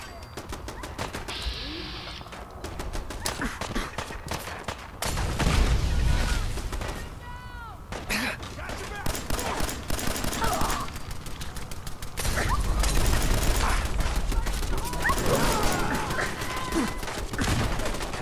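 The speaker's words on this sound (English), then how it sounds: "Grenades everywhere, holy crap!" Grenade explosions amid heavy gunfire in the game Fallout 4: repeated bursts and loud booms in several long waves, dense rattling shots between them, fairly close and intense, with some speech mixed in.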